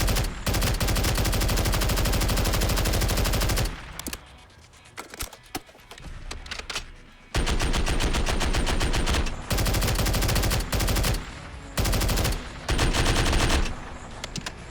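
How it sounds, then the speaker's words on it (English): Rapid automatic rifle fire from an MW II EBR-14 (M14) in Fallout 4 comes in long, loud bursts separated by short pauses filled with quieter shots and impacts. "Try to shoot him as many times as possible."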